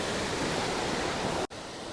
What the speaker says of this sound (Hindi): जहाँ से आज झरना बहता देख रहे हैं आप